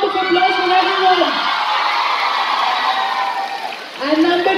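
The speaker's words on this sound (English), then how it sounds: "Let's have a round of applause for everyone." Audience at a motivational public-speaking event breaks into loud, sustained applause with some cheering, the clapping dense and close before fading near the end, where a voice briefly returns.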